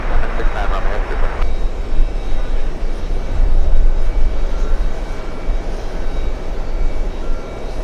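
A Delta Boeing 767 airliner comes in to land at JFK airport, its engines a loud, broad, steady roar that holds throughout. Radio chatter and voices run faintly beneath the noise.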